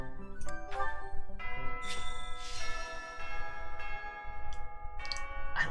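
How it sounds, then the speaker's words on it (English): A bell chiming in the video game Fire Emblem: Three Houses, a series of ringing tones with long resonant decays that overlap into a layered, echoing peal over a low background. "I love the bell!"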